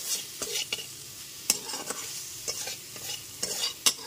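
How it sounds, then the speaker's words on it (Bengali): Salt being stirred into a spiced okra and potato curry in a pan, with repeated scraping strokes and soft sizzling, close and fairly quiet, with no talking. "লবণটা দিয়েও খুব ভালো মতো মিশিয়ে নিচ্ছি।"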